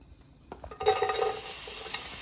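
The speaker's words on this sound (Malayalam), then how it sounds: "ഇനിയിപ്പോൾ നമുക്ക് ഉള്ളി വഴറ്റണം." Onions sautéing in hot oil in a pan for Kerala-style theeyal, starting as a quiet scrape and swelling into a steady, close sizzle with stirring, no voices.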